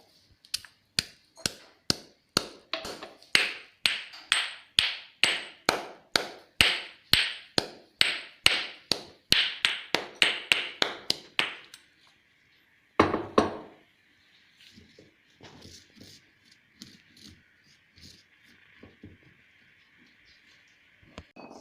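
Roasted nutmeg pounded into powder in a mortar: a long run of steady, loud, evenly spaced thuds that stops, followed by a brief scrape and quieter scattered taps.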